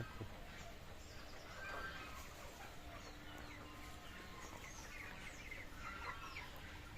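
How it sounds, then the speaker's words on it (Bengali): A crowd of about two hundred 21-day-old chickens chirps and clucks softly and continuously, a dense faint chatter filling an enclosed poultry shed. "এখানে দুইশো পিস মুরগি আছে আজকে বয়স একুশ দিন"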